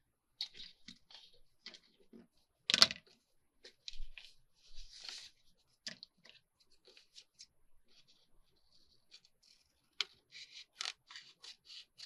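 Scissors trimming a sheet of paper in a craft project, giving a series of short crisp snips and rustles close by, with quiet pauses between cuts and one louder crunch partway through.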